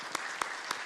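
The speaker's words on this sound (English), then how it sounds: "I'm just giving you a big applause" Applause from an audience at a lecture forms a short, continuous wash of clapping, and three louder single claps stand out from it. The whole burst is brief.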